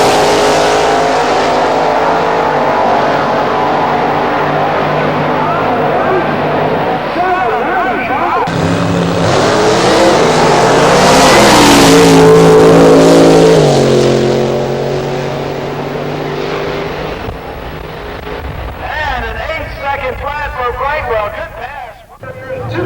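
A drag racing car launches hard off the line with its front wheels lifting, its engine roaring loud and sustained before fading as it pulls away, while a commentator talks over it.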